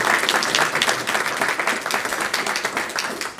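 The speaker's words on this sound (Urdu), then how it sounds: "میں چاہوں گا بھرپور تالیاں آپ ان لوگوں کے لیے بجائیے" Sustained, dense applause from an audience at a poetry gathering in Willesden Green, London, many hands clapping steadily and loudly throughout without any talking.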